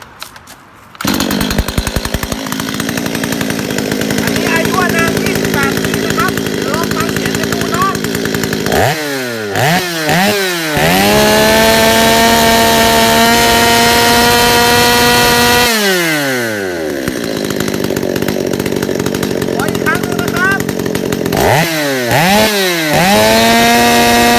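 An old STIHL 023 chainsaw starts and idles loud and close with a rough, buzzing engine. Throttle revs swoop up and down repeatedly between stretches of steady running.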